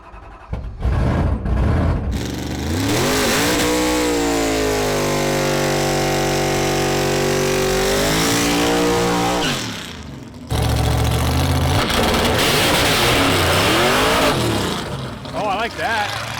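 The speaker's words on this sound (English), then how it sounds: "Your end's moving, clutch picked up, and that thing took off." A race car with a diaphragm clutch revs up loudly and accelerates hard on a drag pass, its engine note climbing and falling in a sustained roar before a brief pause and a second burst, with voices chatting over it.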